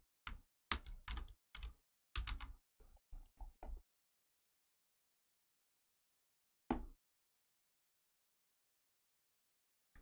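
Someone types on a computer keyboard in a quick burst of close, crisp keystrokes, falls silent for a few seconds, then adds one isolated keypress and one more at the very end.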